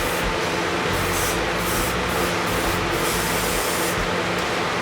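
Continuous hissing spray from a Rust-Oleum metallic chrome aerosol spray paint can, steady and close, with faint gaps in the high hiss and no talking.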